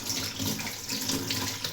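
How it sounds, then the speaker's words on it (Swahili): Tap water runs steadily into a kitchen sink while bananas are washed under it for banana bread, a close, continuous splashing rush with no talk. "Kwanza naosha mandizi yangu"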